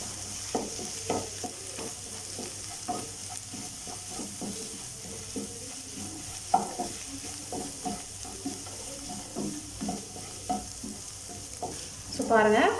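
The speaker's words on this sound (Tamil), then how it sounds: "இது சேர்த்து நல்லா கிளறிடலாம்" Capsicum egg poriyal is stirred in a frying pan, with a steady low sizzle beneath repeated scraping strokes of a spatula at an irregular rhythm, close up, and a louder clatter near the end.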